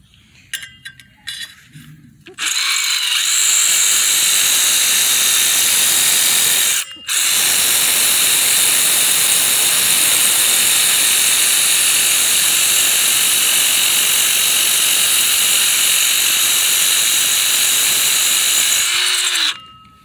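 Power drill with a masonry bit boring into natural stone, a loud steady grinding whir running about seventeen seconds with one brief pause, preceded by short bursts and clicks.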